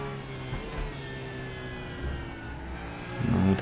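A race car engine in the racing game Raceroom drones and whirs at mid pitch under light throttle, then rises into a louder acceleration surge near the end, steady and close with no talk.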